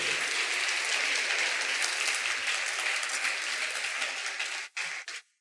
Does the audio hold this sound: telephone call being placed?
no